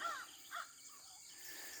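Crows perched in a tree give two or three short, harsh caws at a moderate distance, fading into faint background hiss.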